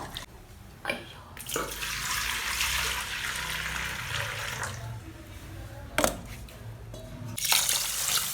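Soaked rice for idiyappam is washed by hand in water: sloshing, splashing and dripping that swell and fade, with sharp bursts of water near the start, middle and end.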